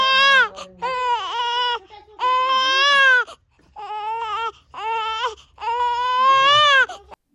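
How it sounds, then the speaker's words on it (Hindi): A newborn baby girl crying in loud, close, repeated wailing bursts separated by short pauses for breath, with no other sounds. "देखा कितना सुरीला रोती है, बस इतना ही क्वां क्वां करती है।"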